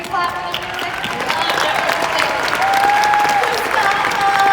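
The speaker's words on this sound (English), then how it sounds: "Can we clap for the music?" A convention panel crowd at PSX 2017 for The Last of Us Part II applauds the game's music, loud sustained clapping and cheering with voices mixed in.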